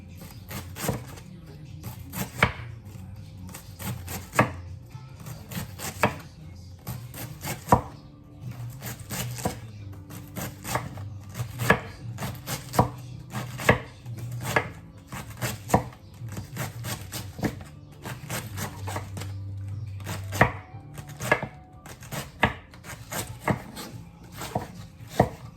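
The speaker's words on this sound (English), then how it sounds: "So now I'm gonna chop up my cabbage into small slices." A knife chopping cabbage into small slices on a board, with rapid, steady, close knocks running throughout at a brisk, slightly uneven rhythm, fairly loud and with no talk.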